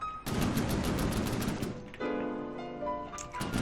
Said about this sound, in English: The assault gun though firing its very large gauge cannon, very good rate of fire, doing a significant amount of damage.